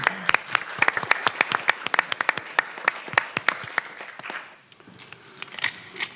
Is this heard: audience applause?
yes